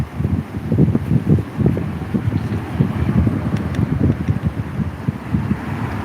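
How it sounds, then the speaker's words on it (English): Strong wind buffeting the microphone in constant low rumbling gusts, loud and close, with no voices. "Oh, it's very windy."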